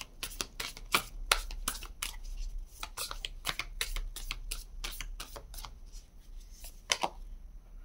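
Tarot cards shuffled for a Hindi-language reading, a close, quiet series of crisp snapping card flicks in uneven bursts, with no voices.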